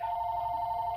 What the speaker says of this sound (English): Oh my god, that's my phone.